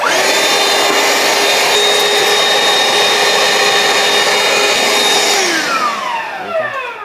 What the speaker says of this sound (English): we're just going to vacuum that out with the Ryobi vacuum